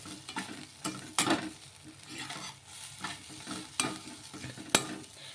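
Coriander, mint and curry leaves are stirred into a frying mixture of puffed rice and egg, with repeated scraping strokes and clanks over a steady sizzle.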